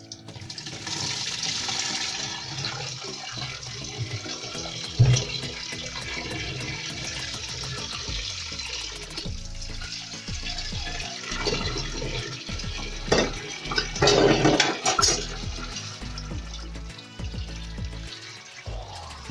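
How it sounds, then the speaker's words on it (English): Excess water being strained from nearly cooked rice for vegetable fried rice, a steady pouring and splashing rush running continuously up close with no talk. "it's time to strain this excess water"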